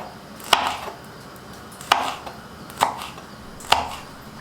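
Four sharp knife chops on a cutting board as vegetables are sliced thinly, spaced unevenly, close and crisp with no talking.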